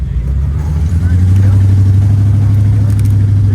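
A new Ford Bronco engine hums low and rises into a steady, loud drone as it drives forward in gear and climbs, heard close, with faint background voices.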